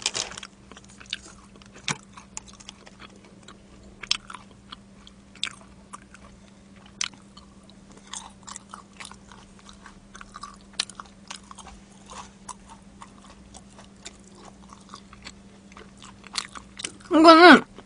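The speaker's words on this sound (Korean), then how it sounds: "한 번 더 먹어보겠습니다." Crunchy fried pepper chicken being bitten and chewed up close, with repeated crisp crunches and chewing sounds spread through the stretch and a louder burst near the end; no talking.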